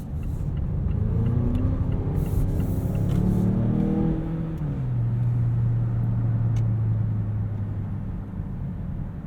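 A 2020 Mazda CX-9 Signature AWD accelerates out of a corner, its engine rising in a revving drone and then settling into a steady hum with road rumble, close and continuous.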